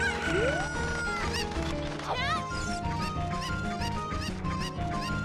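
Chickens cluck in The Legend of Zelda: Ocarina of Time, a randomizer run, as repeated clucks and game sound effects with chiming tones and swooping notes, heard over a bed of in-game background music.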